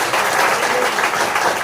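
A church congregation clapping during Sunday worship: a dense, loud burst of applause from many hands, sustained evenly for under two seconds.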